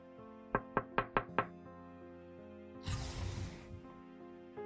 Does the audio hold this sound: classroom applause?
no